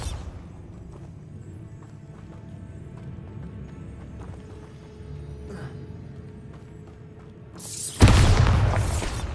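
A Bombarda spell blast in Hogwarts Legacy on PS5 hits suddenly as a loud, broadband explosive burst near the end, after a stretch of low game ambience and faint tonal music.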